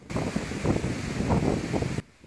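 Strong typhoon wind from Typhoon Marce in Cagayan, Philippines, buffets the microphone in a loud, gusting roar for about two seconds, then drops away abruptly.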